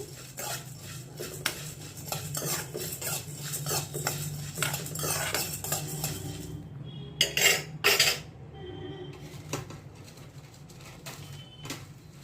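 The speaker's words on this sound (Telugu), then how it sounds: "ఒక 10 దాకా ఎండుమిరపకాయలు, ఇవన్నీ దోరగా వేయించుకోవాలి." About ten dried red chillies are stirred and dry-roasted in a pan with coriander seeds, giving a steady series of utensil scrapes and clinks against the metal, close and moderately loud, without talking.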